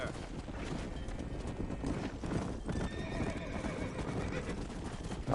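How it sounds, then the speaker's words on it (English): A horse in the Red Dead Redemption game gallops with quick rhythmic clip-clop hooves and lets out a neigh, all under a steady wind-like rush, with a voice speaking briefly. "That horse went rogue there."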